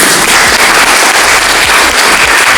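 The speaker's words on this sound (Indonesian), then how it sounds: "Tepuk tangan dulu untuk Kabupaten Gorontalo." Dense, steady applause from an audience at an official regency government training event in Gorontalo, loud and continuous throughout with no voices above it.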